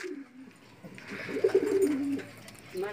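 Soft, low racing pigeon coos roll out in a short burrowing phrase, close by, with faint background noise around them.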